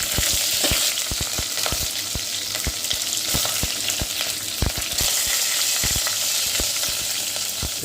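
Curry leaves and green chillies sauté in butter in a pan for a Jaffna-style cuttlefish curry, giving a loud, steady sizzle broken by frequent sharp crackles and pops throughout, with no talking.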